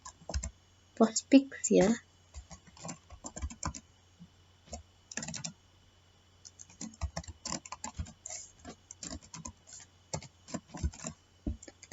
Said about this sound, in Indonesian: Kemudian kita ketikkan di sini apt-min get install